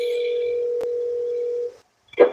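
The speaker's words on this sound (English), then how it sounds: "Let's get her on the phone." A steady telephone dial tone hums alone in the handset for about 1.7 seconds as a call to someone is placed, then cuts off into a brief silence before a short burst of sound.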